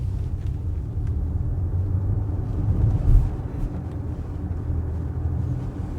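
A 2026 Genesis GV70 Electric plays a simulated combustion-engine hum and virtual gear-shift revs while driving. The sound is a low, steady droning rumble with a slight swell near the middle, mixed with road noise and no talking.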